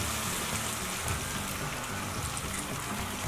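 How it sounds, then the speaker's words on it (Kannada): Water with tamarind juice boiling in a pan for cabbage manchurian sauce: a dense, continuous bubbling rush that stays steady and close throughout. "ಕುದಿತಾ ಇದೆ"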